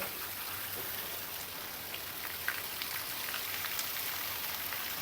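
Heavy rain pours down over a village, a dense, steady hiss of falling water and drops striking surfaces, close and continuous with no talking.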